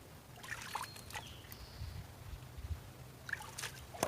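Dirty pool water draining through the opened bottom plug into the pipe while a pool is being opened for the season: a faint, uneven trickle with a few soft splashy bursts, close by.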